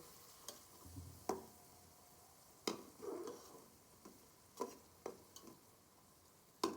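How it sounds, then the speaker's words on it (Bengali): A fish head sautéing with spices in a pan gives a quiet, steady sizzle, broken by sharp intermittent clicks and scrapes of stirring against the pan. "মাছের মাথাটা একটু ভালো করে কষিয়ে নেব।"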